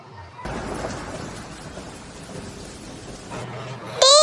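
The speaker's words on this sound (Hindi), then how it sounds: "ये तो बारिश होने लगी" Steady rain hisses with a low rumble of thunder underneath, then a bright electronic tone briefly cuts in at the end.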